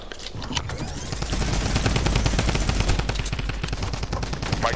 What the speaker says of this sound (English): Mike, you got the machine gun?